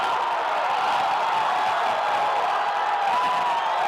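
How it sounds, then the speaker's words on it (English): Large crowd at the 2021 disc golf World Championships cheering steadily after a shot, a dense continuous roar of voices with whoops, sustained and fairly loud throughout. "Look at this crowd."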